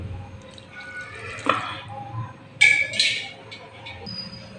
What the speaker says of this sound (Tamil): கொஞ்சம் தண்ணி விட்டு கெட்டியாக ஆக்கலாம்